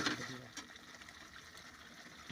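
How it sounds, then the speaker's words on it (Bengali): Water poured into a pan of magur catfish curry with mustard and poppy seed paste, a short gushing splash at the start that settles into a faint trickle with a soft, steady liquid hiss. "এবার পরিমাণ মতন জল দিয়ে দিতে হবে"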